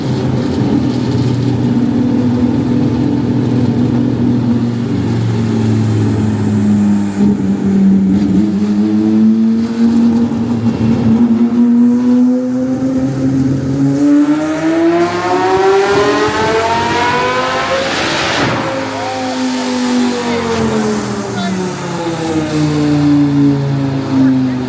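A V10-swapped Lincoln Continental revving on a dyno, loud and close, its engine note sweeping down, then climbing steadily through a long pull before easing off again.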